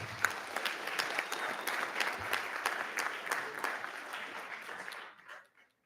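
Audience applause at a school board meeting as families come in for a recipient recognition, steady clapping for about five seconds before fading out.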